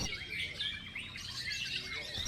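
A white-rumped shama sings, bright and continuous with fast, varied warbling phrases, fairly loud and close, over a steady low background hum.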